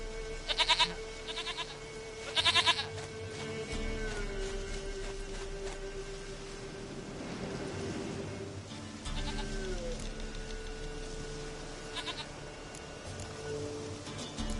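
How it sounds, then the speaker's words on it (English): A goat in the video game The Witcher 3: The Wild Hunt bleats in several short loud bursts among steady game ambience and music. "Goat of mine, dearest,"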